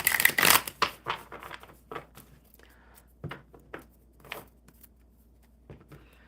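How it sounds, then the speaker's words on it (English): A deck of tarot cards is shuffled up close, a quick flurry of crisp riffling and slapping at first, then scattered softer shuffles and taps spread across the following seconds. "All right, one more good shuffle."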